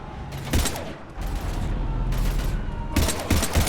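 Gunfire from the video game Mass Effect 3, a rapid, loud burst of automatic shots followed by another burst after a brief gap, with a low rumbling battle din underneath and no voices.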